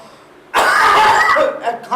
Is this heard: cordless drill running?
no